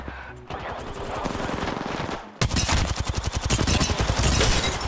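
Gunfire in Apex Legends comes in rapid automatic bursts. A quieter volley leads into a loud, sustained stream of close shots.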